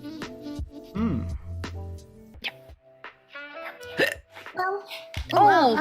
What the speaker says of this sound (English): He finishes with a hiccup.